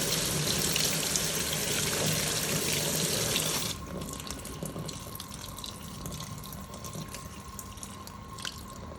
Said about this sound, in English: it's trying to fill to the right level with the outer tub